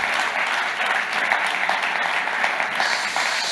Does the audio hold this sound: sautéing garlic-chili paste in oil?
no